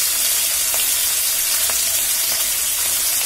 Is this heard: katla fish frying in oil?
yes